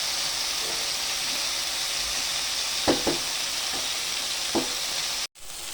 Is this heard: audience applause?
no